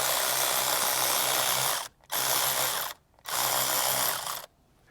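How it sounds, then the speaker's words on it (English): A 12mm nut is being reinstalled onto a battery stud in a Toyota LandCruiser 300 Series. A mechanical ratcheting buzz sounds in three sustained bursts, separated by brief pauses, close and alone. "reinstall their 12mm nut onto the stud"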